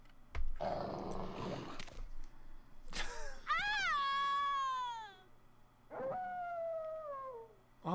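A dog howls in Resident Evil 2, drawn-out wavering cries rising and falling over about two seconds, then a second shorter howl, with gritty game noise and thumps in between; no talk.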